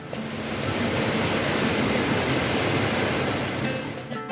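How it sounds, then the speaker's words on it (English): Olu Ella waterfall in Yatiyanthota, Sri Lanka, roars as a steady, loud broadband rush of falling water through the forest, constant throughout before a brief dip and thump at the end. "Standing here, you can feel the cool mist, the energy of the waterfall, and the sound."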